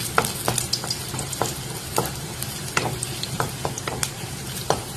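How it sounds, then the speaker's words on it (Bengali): Garlic frying in hot oil in a pan, the first step of a cauliflower and puti fish recipe, makes a steady close sizzle. Repeated scraping stirs of a utensil cut through it, and no one speaks. "তেলটাই গরম হয়ে গেছে তো আমি প্রথমে রসুন তো হাতে রাখলাম রসুনটাই না একটু ভাজে নিই"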